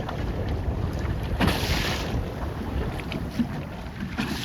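Strong breeze buffets the microphone aboard a 29er sailboat during a race, a steady rushing roar with gusty swells and splashing water beneath, no voices.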